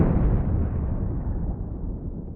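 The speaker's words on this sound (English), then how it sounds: "Suddenly, there was a violent underwater explosion." A violent underwater explosion holes a ship, heard as a deep, muffled rumbling roar that starts at full strength and slowly fades, its muted low boom smothering any sharper detail.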